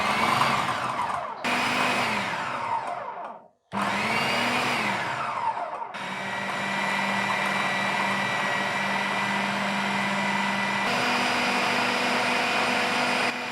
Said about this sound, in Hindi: अब मैं शुरू में कुछ पल्सेस दूंगा ताकि ये चीज़ें मिक्स हो जाएं और फिर मैं इसको मुसलसल चलाऊंगा।